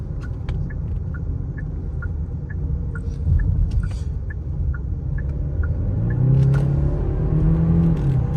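Inside a 2022 Genesis GV70, a soft, low engine rumble swells as the car picks up speed, with a steady series of light ticking clicks running through the first half.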